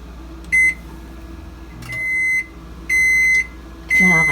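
A microwave oven hums steadily and gives several loud electronic beeps, some short and some held for about half a second, close up with no voices.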